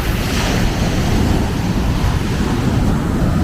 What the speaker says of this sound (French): ici à Ipanema, il y a vraiment des grosses vagues